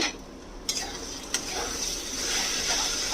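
Gourd peel with turmeric and salt stirred in a pan, a steady soft sizzle with a couple of sharp utensil scrapes against the metal, the frying growing a little louder toward the end.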